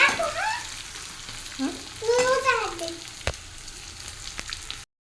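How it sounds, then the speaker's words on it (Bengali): Tomatoes sautéing in a pan until they turn reddish give a steady, close sizzle and frying crackle that runs throughout, with brief voices rising over it near the start and middle. "ভালো করে কষাই করে নেব আর একটু লাল লাল করে"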